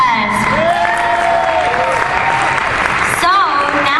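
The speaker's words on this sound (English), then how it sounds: "let's give another round of applause for Nima, the officers, and Dr. Keshavarz." A crowd claps steadily while cheers and whoops rise over the applause, with voices mixed in throughout.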